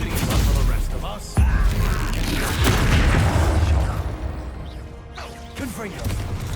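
A Bombarda explosive spell in Hogwarts Legacy lands with a sudden sharp blast and crashing rumble amid a loud, busy battle, with voices speaking throughout.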